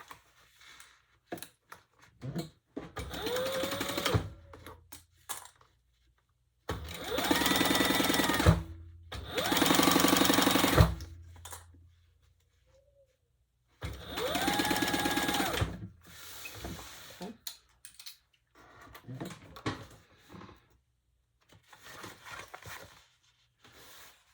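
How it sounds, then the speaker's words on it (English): A sewing machine runs in several separate bursts as it stitches a seam at 1/8 inch. Each run is loud and close, with quiet pauses between the runs and no talking. "And let's just stitch that at 1/8 of an inch."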